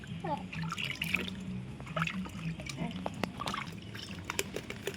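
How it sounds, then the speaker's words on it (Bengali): Water splashes and trickles as it is poured over a parakeet's head during a bath, a soft, close dribbling with drips, while people talk quietly nearby. "এরকম করে মাথায় জল দাও।"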